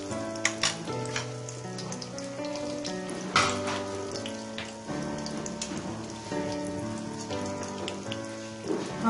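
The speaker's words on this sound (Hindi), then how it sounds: "हमने इसको दरमियानी आंच पे फ्राई करना है ताकि ये ज्यादा अंदर से कच्चे ना रह जाए।" Chicken shami kababs fry in a pan over medium heat with a steady, close crackling sizzle that continues throughout. Sustained tonal sounds play quietly beneath it, and no one speaks.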